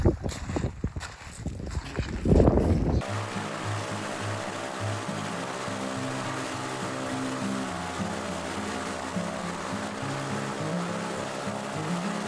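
Rushing river water churns steadily over shallow rapids in mid-October, broken waves roaring close by after a brief loud disturbance at the start.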